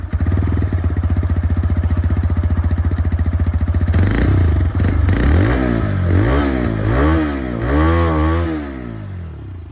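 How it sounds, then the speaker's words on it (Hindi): A TVS Raider 125 motorcycle idles with a rapid, throbbing exhaust putter, then revs up and down several times in rising and falling surges, loud and close. "दोनों ही बाइक की यहाँ पर जो एग्जॉस्ट साउंड है वो मैं आप लोगों को सुना दूँ"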